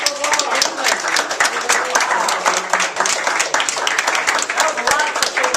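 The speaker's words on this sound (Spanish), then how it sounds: "fuerte aplauso." An audience bursts into strong applause, dense rapid clapping from many hands that stays loud and steady throughout, with a few voices mixed in.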